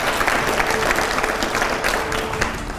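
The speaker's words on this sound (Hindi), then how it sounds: "जोरदार तालियां हो जाए" Loud, dense applause from an audience at a Hindi public speaking event fills the whole stretch, steady and close with no break.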